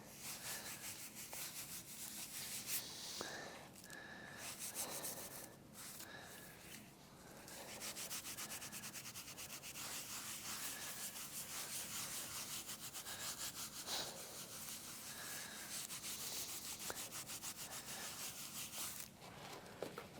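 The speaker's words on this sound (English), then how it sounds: "I'm going to buff it one more time. Making sure to get all of the excess off of it." Repeated rhythmic rubbing strokes of a cloth buffing tooled leather to remove excess antique finish, soft and close with no talk.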